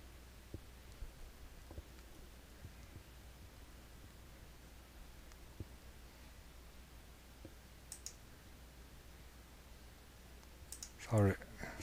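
Faint, sparse mouse clicks and a few soft keyboard taps at a Windows 10 computer, spaced irregularly over a quiet background hiss, with a slightly louder cluster of clicks near the end.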